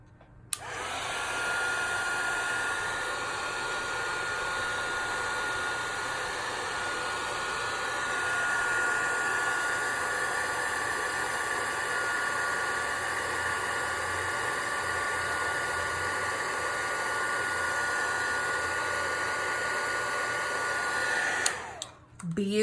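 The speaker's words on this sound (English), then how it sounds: "I'm about to turn on my heat tool" Heat tool used to melt embossing powder for stamping, a steady close whooshing blow that runs unbroken for about twenty seconds before it clicks off.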